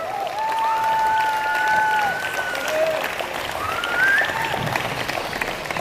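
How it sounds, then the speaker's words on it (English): Sustained broad applause from the crowd at a youth championship lead-climbing final, steady and loud for several seconds, with whistles and cheering cries riding over it. "Let's give them a big round of applause as well"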